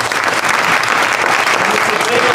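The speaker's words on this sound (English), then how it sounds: "Let's hear it one more time for Trevor." A comedy club audience applauds a stand-up comic, a dense, loud burst of clapping that holds steady throughout and stays close and full.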